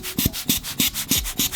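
Crayon is rubbed back and forth into paper in about six quick, evenly spaced scratchy strokes, close and dry, with no voices.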